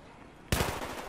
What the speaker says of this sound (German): Ich schieß, ich schieß.